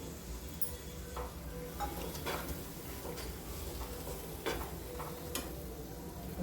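Green peas stirred into a spiced masala in a pan for matar paneer, giving a soft, steady scraping and a low sizzle with occasional spoon taps, quiet and close, with no talking.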